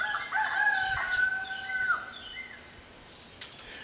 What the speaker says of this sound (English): I know y'all liking hearing the roosters out there sing.